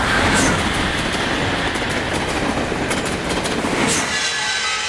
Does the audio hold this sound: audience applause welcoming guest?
no